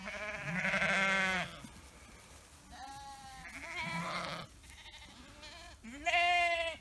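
Sheep and lambs bleat in a paddock fenced by a single wire, with several loud, drawn-out calls in overlapping bursts close by and short pauses between them.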